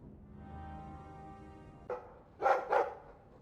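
A dog barking in a video game, with two sharp barks close together after a brief yip, heard over a soft sustained musical drone.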